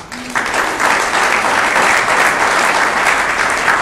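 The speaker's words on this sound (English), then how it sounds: "That's a pause for applause." Loud, sustained audience applause fills a Rotary Club meeting in York, Pennsylvania, after a school district speaker's remark; it swells in just after the start and stays full and steady.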